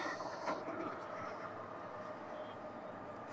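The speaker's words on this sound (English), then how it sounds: "Sorry about the train." A passing train rumbles steadily in the background, a moderately distant, continuous roll with faint clatter that holds through the short stretch without fading.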